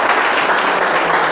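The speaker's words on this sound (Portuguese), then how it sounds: "Quem crê pode aplaudir, glorificar." A church congregation applauding in praise during a Portuguese-language worship service, a steady dense wash of many hands clapping at close range without pause.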